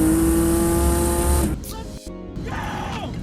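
A BMW G80 M3 built to 1,350 wheel horsepower roars loudly on a quarter-mile drag pass, a high sustained engine note that breaks off abruptly partway through, followed by rougher, quieter mechanical noise.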